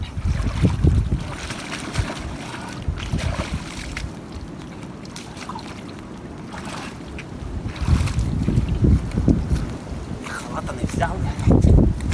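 Gusty wind buffets the microphone in low rumbling bursts, with water sounds and occasional voices in the background.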